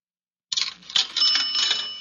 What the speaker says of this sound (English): Wait, that was a cash register.